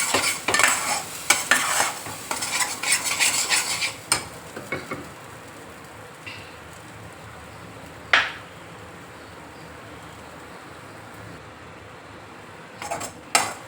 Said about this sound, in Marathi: थोडीशी हळद घालूया छान परतून घेऊ तेल करून